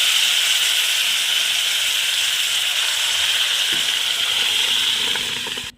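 A loud, continuous sizzling hiss as lentils hit a hot oil tempering, steady throughout and fading away at the very end.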